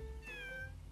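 A single short meow from a cat in The Sims 3, clear and fairly close, rising then falling over a faint low background hum.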